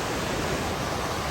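A small, curvy waterfall in Alaska gives a steady, even rush of falling water that holds at one level with no breaks and no voices.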